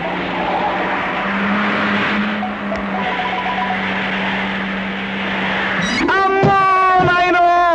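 An expensive car speeds past with a steady engine drone, then tires squeal in a sharp rising skid near the end, loud and close.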